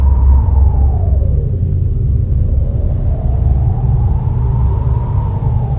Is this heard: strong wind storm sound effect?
yes